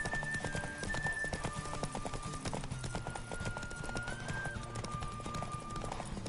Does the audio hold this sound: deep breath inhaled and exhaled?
no